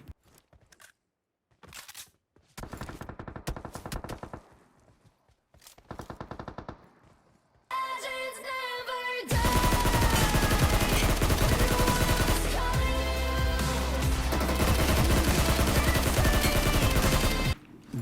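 Gunfire from the mobile battle royale game BGMI (PUBG Mobile India) comes in sparse bursts early on, then gives way to a loud, dense stretch of continuous firing layered over game music and effects.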